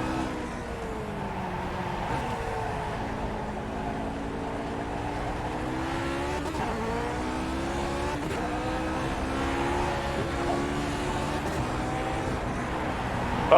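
A Lotus 49 race car engine drones at half throttle in a racing video game at Zandvoort, a steady close buzzing whine with small pitch dips and rises as the car works through corners.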